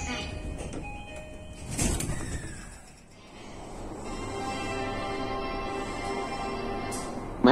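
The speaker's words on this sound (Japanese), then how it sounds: "4番線ドアが閉まります。" Train doors sliding shut at platform 4 of a Japanese station, with a mechanical swish and clunk early on, then a steady hum of the train and platform ambience.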